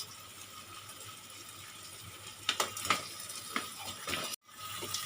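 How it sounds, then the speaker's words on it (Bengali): Prawns frying in a spiced masala for a hot chingri kalia, giving a steady close hiss with a few sharp clattering stirs partway through and a brief drop-out near the end; no one speaks. "চিংড়ি মাছ দিয়ে মশলাটা এক মিনিট কষিয়ে নেব"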